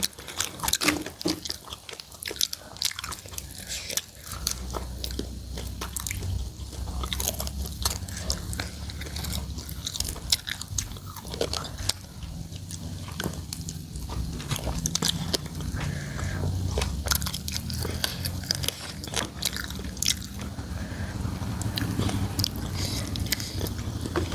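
Someone chews crunchy fried chicken bones close up, a long run of irregular cracks and crunching bites at fairly steady volume, with no talk.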